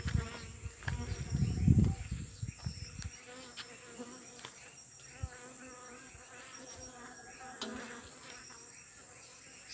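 Strong honeybee colonies buzz steadily through a night hive check at 4 AM, a faint continuous insect drone with a louder burst of low rumbling handling noise near the start.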